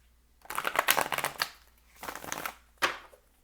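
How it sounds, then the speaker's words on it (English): A deck of Starman Tarot cards is shuffled by hand in three bursts of crisp riffling and flapping, close and fairly quiet with short pauses in between. "One more shuffle from the Starman Tarot"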